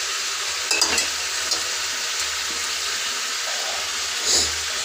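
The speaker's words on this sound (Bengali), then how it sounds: "এবার এটাও ভাজা ভাজা করে নেব।" Chicken pieces and potato chunks fry in a pan with a steady, moderately loud sizzle, broken by a few clattering stirs near the start and end, with no voices.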